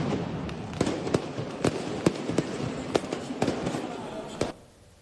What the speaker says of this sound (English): fans threw fireworks onto the pitch during a professional soccer match